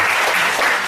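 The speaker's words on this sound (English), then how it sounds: "Can you please give one more applause?" A seminar audience at a product demonstration bursts into steady, dense applause, a close continuous wash of many hands clapping with no pauses.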